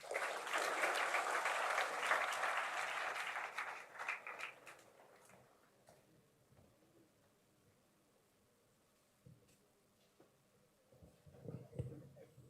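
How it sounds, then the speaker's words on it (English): An audience at a sustainability conference breaks into strong applause after a speech, a dense burst of clapping for about four seconds that thins and dies away, followed by quiet room noise and a few scattered late claps. "let's give a bigger round of applause for our sir"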